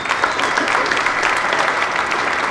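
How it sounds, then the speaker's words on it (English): Loud, close audience applause at the American Airpower Museum's dropping of the roses ceremony, a continuous dense patter of many hands clapping at steady strength throughout with no speech. "I think they deserve a round of applause also."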